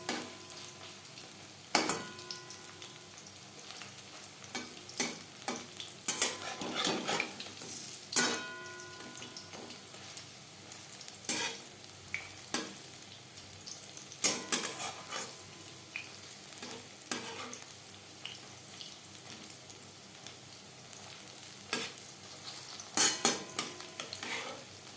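Pakoras crackle and sizzle in hot oil while a utensil repeatedly scrapes and knocks against the pan as they are turned, the sharp clatters punctuating a soft, continuous fry.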